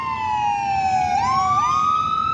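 An ambulance siren wails steadily in road traffic, a loud sustained tone that dips and swoops in pitch twice, with the low rumble of idling vehicles beneath it and no talking.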